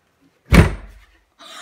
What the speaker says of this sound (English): I dare you to close that door.